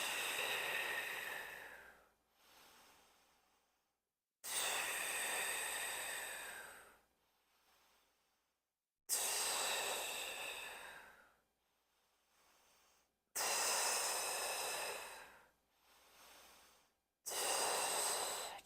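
Slow, deep breaths during a mat Pilates exercise, long audible inhales and exhales in a steady rhythm, each lasting a couple of seconds and separated by short silent pauses, close and fairly quiet with no talk.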